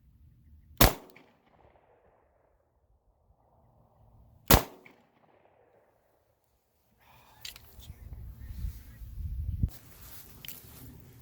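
A PSA Dagger 9mm pistol fires two single sharp shots several seconds apart, loud and close, followed by shuffling, handling noise and muffled movement.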